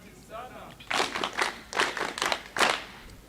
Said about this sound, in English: We need to clap for them.